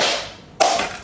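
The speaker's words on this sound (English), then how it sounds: "I'll try to crack it from the top this time" A single sharp crack as a coconut is struck open from the top with a tool, a loud close hit that comes after a fading hiss and leaves a short ringing tail.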